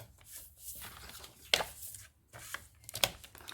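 Paper is cut for a scrapbook photo album, a few sharp, close snips and slicing strokes separated by short quiet gaps, fairly soft overall.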